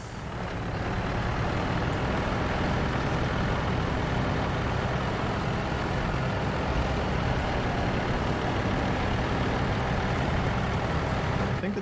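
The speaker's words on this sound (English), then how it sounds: "I think it's like kind of a heavy truck or something." A heavy Western Star 4964 recovery truck on lowered suspension drones steadily in SnowRunner, its engine a loud, continuous, unbroken rumble that holds at the same level from start to finish with no talking.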